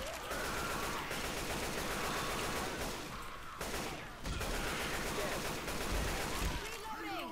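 Sustained rapid gunfire from a zombie-shooter co-op finale in Left 4 Dead 2, dense bursts running nearly continuously with a brief lull midway, mixed with game effects and faint talk.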